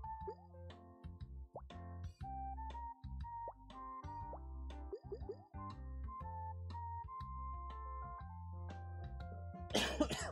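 A single sharp cough bursts out near the end, over a background of steady tonal electronic sounds from Suika Game.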